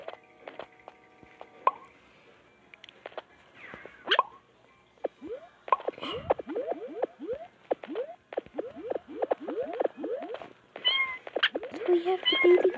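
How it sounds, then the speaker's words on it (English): Repeated high, squeaky video-game kitten meows come in quick succession, with soft clicks and plops between them, growing busier toward the end. "We have the baby kittens."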